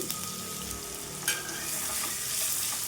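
Cabbage and egg fry steadily in a pan, with a continuous broadband sizzle and occasional scraping strokes as the mixture is stirred; no talking.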